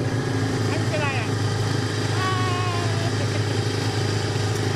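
A tractor engine runs steadily in a potato field in the Czech Republic, a continuous low rumbling drone with a faint rising whine. A voice shouts over it.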